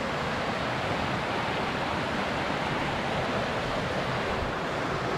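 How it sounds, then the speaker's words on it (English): The Little Sioux River flows past in early spring, a steady, broad rushing wash of water that holds constant and fairly loud with no voices. "We're right here by the Little Sioux River."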